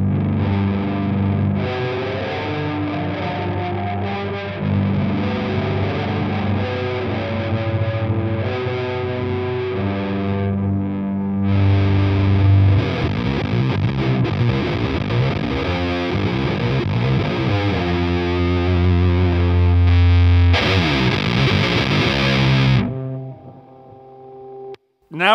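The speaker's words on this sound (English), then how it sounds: "Let's try maximum reverb with no distortion, or little distortion." Electric guitar through a Walrus Audio Melee pedal set to maximum reverb with a little distortion, sustained chords washing into long, dense shoegaze-style ambience, loud and continuous before cutting off abruptly at the end.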